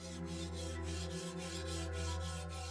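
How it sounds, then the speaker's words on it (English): A katana blade has its contours ground by a Japanese swordsmith, giving rhythmic back-and-forth rasping strokes about every quarter second over a steady low hum, with no talking. "now sets to work grinding the contours and begins to bring the edge to its razor sharpness"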